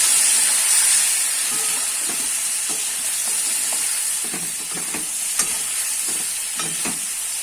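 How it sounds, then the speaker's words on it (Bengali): Spice paste with turmeric and potatoes fries in a pan for a sarputi fish curry with eggplant, giving a steady hiss and sizzle broken by repeated scraping stirs of a spatula, close and continuous with no talking. "এবার আমি মশলাটা ভালো করে কষিয়ে নেব আলুর সাথে।"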